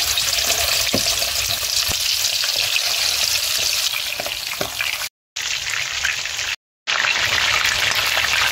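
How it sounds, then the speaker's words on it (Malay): Chicken pieces frying in hot oil for a home-style ayam masak merah, a loud, dense crackling sizzle close up and continuous, broken by two short total dropouts near the end. "minyak dah panas, kita goreng ayam tu"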